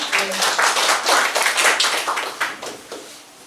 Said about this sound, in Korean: 박수 한번 보내주시고요